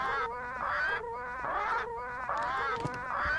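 Parrots squawk in the Return to Monkey Island video game, sounding as a continuous chatter of raspy, warbling bird calls repeating in rough one-second waves over a steady game background, moderately quiet and with no talk.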